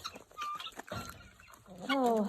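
Chickens cluck and squawk nearby in short, irregular bursts, with a louder, drawn-out call near the end.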